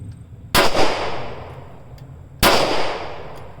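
A Smith & Wesson M&P 10mm pistol fires 200-grain CCI Blazer aluminum-cased rounds. Two loud, sharp shots land about two seconds apart, and each rings off in a decaying echo.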